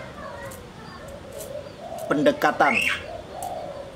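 A spotted dove (tekukur) coos softly and low in a repeated rhythm, while someone talks close by over the bird.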